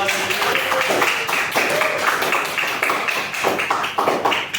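A classroom of students claps for a presenting group: a dense, moderately loud patter of many hands, irregular and continuous, with a few louder claps popping out close by.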